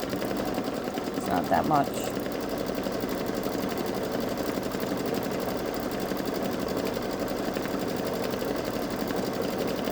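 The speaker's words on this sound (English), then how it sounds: "this is outlining those flowers up in this section. It's only a 3-minute stitch out" A Babylock Solaris embroidery machine stitches flower outlines with a steady, continuous mechanical whir throughout, and a voice speaks briefly near the start.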